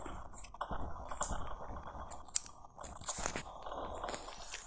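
Zombie eating sounds from the ragdoll sandbox game Melon Playground: steady wet biting and chewing crunches, with one sharp click partway through, loud and close with no talk.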